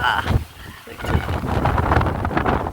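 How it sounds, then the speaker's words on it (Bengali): Strong gusty wind at the onset of a storm with lightning, roaring and buffeting the microphone steadily throughout, with a brief lull near the start before the gusts build again. "প্রচন্ড হাওয়া ছেড়েছে, ঝড় উঠছে"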